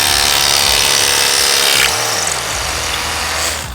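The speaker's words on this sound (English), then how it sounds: "you're gonna drill a 1/4-inch hole with the roto hammer" A loud, continuous rotary hammer whine with harsh grinding as it drills a quarter-inch hole into concrete, briefly dipping in pitch midway before steadying again, heard up close with no talking.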